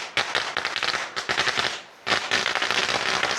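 A string of firecrackers bursts on a mountain top at a temple, dense rapid crackling pops that keep going loud and close, with a brief lull before resuming.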